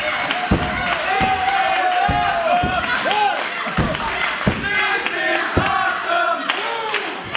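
A pro wrestling crowd roars loudly after a 450 splash, a dense, sustained arena cheer with shouts and heavy thuds from the ring, no commentary voice over it.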